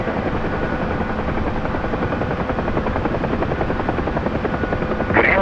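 UH-1H helicopter in the DCS flight game, a steady, loud, close rotor thump with a dense throbbing pulse and turbine whine throughout, slightly rising at the very end.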